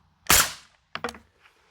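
Ruger Mini 14 rifle fired outdoors, one sharp loud crack followed by a quieter second report and a faint echo.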